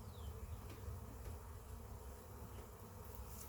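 Honeybees buzzing around an opened, growing hive during a frame inspection, a close, steady low hum of many insects, faint and constant with no voices.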